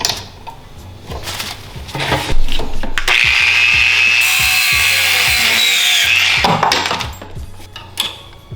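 A power tool cuts through a metal rod for a Virago cafe racer rearset install, giving a loud, steady whining grind of about three seconds, framed by shorter bursts and clanks of handling before and after.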